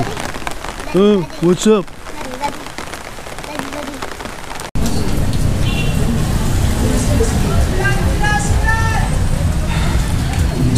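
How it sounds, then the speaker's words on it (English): Rain pouring down on a busy city street in Naga City, Philippines, a loud, constant hiss of drops on the pavement that jumps suddenly in strength halfway through, with a voice talking briefly near the start and traffic noise underneath. "even though it's raining"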